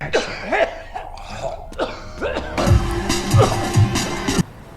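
A man coughs in several harsh bursts and clears his throat, with short pauses between fits, close to the microphone.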